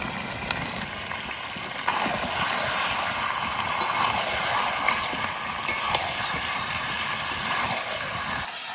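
Country chicken seasoned with salt and turmeric sizzles steadily in a pot over a wood fire, a constant broadband hiss with scattered small crackles and pops and no voices.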